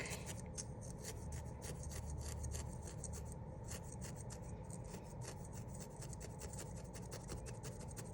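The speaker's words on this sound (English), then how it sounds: "the more you needle felt in one space, the more you're going to flatten it or create a divot" A felting needle jabs repeatedly into wool while shaping a penguin keychain, producing a faint, fast, steady scratchy rasp with crisp little pokes throughout.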